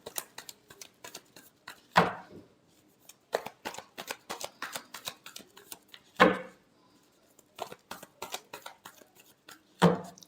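Tarot cards being shuffled in quick, crisp riffling bursts, several short flurries separated by gaps, with a few sharper slaps of the deck landing, close and fairly quiet.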